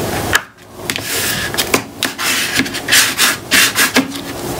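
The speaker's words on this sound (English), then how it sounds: "I'm gonna try to redo my score line and push that up a little bit" A scoring tool redraws a score line across a paper pocket page, giving close, dry scraping strokes in several short bursts of varying loudness, with no talking.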